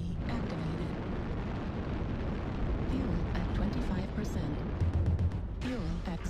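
Rumbling, crackling blasts of an artillery strike in a tank battle video game, dense and loud throughout, with voices talking over the barrage.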